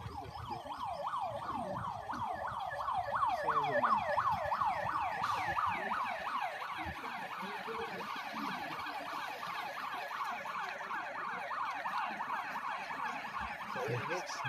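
A fire truck's siren wails in rapid repeated up-and-down cycles during a fire call in rainy weather, moderately distant and steady for the whole stretch, with faint background street noise and occasional indistinct voices.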